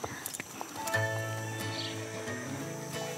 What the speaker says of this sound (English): Horses! They're horses!